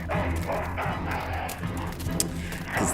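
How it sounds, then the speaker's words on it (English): An ill-tempered dog in the Full Throttle video game barks and yips repeatedly in short, loud bursts, heard up close over background game sound. "That's one ill-tempered mongrel."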